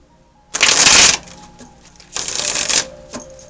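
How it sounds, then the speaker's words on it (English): Tarot cards are shuffled in two loud, close bursts of crisp riffling flutter, separated by a short pause. "let's get this shuffled"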